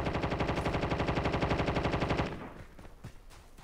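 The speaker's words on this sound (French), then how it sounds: "Oula, ça tire là." Rapid automatic gunfire in a video game rattles out in an even, fast burst for about two seconds, then cuts off, leaving a few faint thuds.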